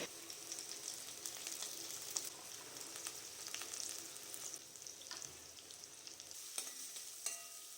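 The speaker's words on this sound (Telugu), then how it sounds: "ఆయిల్ వేడయ్యాక ఆవాలు, జీలకర్ర, మిరపకాయలు, అలాగే ఆనియన్స్, కరివేపాకు, సో ఇవన్నీ కూడా వేసుకొని కొంచెం పసుపు కూడా యాడ్ చేసుకొని బాగా ఫ్రై చేసుకోవాలి." Mustard seeds, cumin, chillies, onions and curry leaves frying in hot oil with a pinch of turmeric, a steady soft sizzle and crackle with light stirring scrapes, heard alone at close range.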